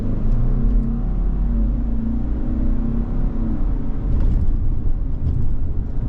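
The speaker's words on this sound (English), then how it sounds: "Get that little bit of a growl out of the engine" A 2024 Subaru Outback Wilderness engine accelerates from a standstill with a steady, low, rumbling growl, heard loud and close without talk.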